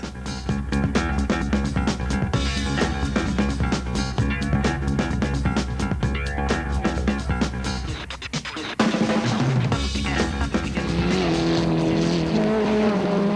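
Rally cars racing on a gravel forest stage at Longmoor Forest, with loud, continuous engine roar and revving, a brief dip near the middle, then a sustained high whine from a passing car, close and dominant throughout.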